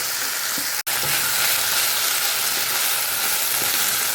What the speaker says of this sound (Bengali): এই যে একটুখানি কষিয়ে নেব